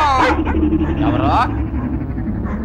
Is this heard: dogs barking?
yes